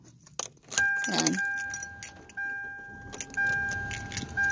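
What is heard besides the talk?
car key turned and car engine starting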